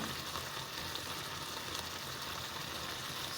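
Cow feet and beef steak cook in a pot, giving a soft, continuous sizzling and bubbling with no break, faint and fairly close, with no voices.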